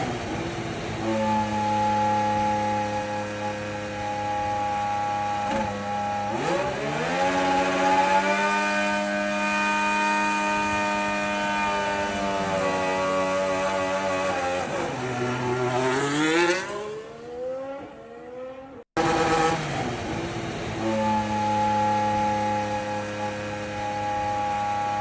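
Mercedes-engined Formula 1 car at preseason testing, a loud high-pitched engine note climbing and holding through upshifts, dipping and rising again as it passes close by, with no talk.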